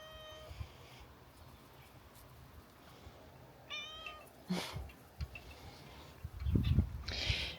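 A cat meows a few times, fairly quiet and close, with soft bumps and rustling in between.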